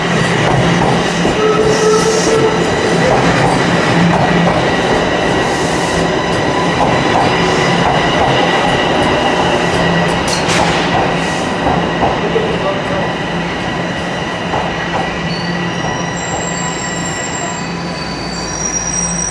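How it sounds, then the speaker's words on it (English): A northbound Toronto subway train rumbles into Davisville Station, loud and continuous, with wheels squealing high against the rails and a steady mechanical roar throughout. "As the northbound train rolls in."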